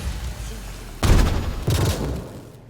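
Magic missile spell cast in Pathfinder: Wrath of the Righteous: two punchy, booming impact bursts about half a second apart, loud and close, each trailing off into a soft rumble.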